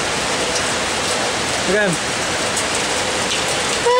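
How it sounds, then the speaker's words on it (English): Steady, loud rain pours down during a beach walk in Toronto, a dense continuous hiss throughout, with a brief voice shouting over it partway through. "It's raining."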